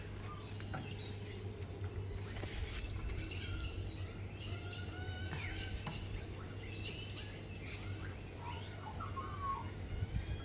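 Young fledgling birds and adult birds call outdoors, scattered chirps and tweets rising over a steady low hum, moderately close and continuing throughout.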